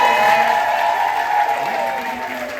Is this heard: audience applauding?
yes